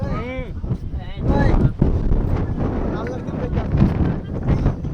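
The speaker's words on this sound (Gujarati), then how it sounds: "પવન તો જો આવે" Wind buffets the microphone in rough, uneven gusts on Girnar mountain in Gujarat while people talk and call out over it.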